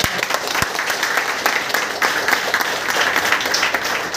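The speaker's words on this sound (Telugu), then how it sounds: "ఒక గట్టి క్లాప్స్." An audience at a training meeting in a store bursts into applause: loud, dense clapping from many hands close by, sustained and even through the whole stretch, with no talk over it.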